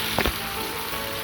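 Boiled noodles are tossed into a hot pan of spices, with a brief soft scrape of mixing at the start and then a steady close frying hiss.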